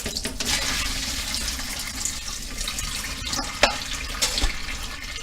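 Steady rush of tap water running into a pan in a kitchen sink, a constant broadband wash with a few small clinks and splashes near the end.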